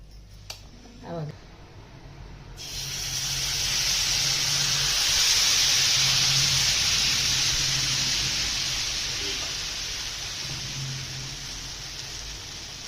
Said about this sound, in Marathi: गॅसवरती तवा ठेवला गरम व्हायला. आता याच्यावरती आपण घावणे टाकून हलवून घ्यायचं प्रत्येक वेळेस